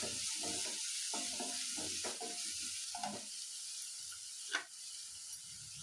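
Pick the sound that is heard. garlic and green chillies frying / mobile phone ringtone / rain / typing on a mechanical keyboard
garlic and green chillies frying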